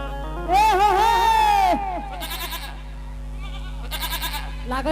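A goat being pulled along bleats loudly in one long wavering cry, followed by shorter, fainter bleats, with a low steady hum underneath.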